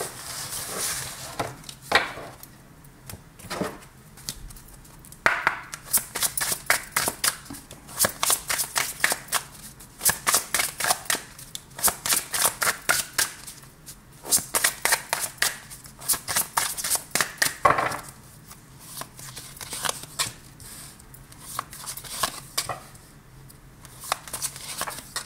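Tarot cards being shuffled for another draw, with rapid riffling bursts in repeated close runs separated by brief pauses and no talk.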